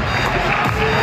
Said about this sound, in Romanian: Un rând de aplauze pentru băieți